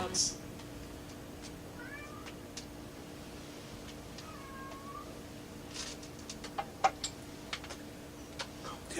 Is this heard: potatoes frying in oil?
no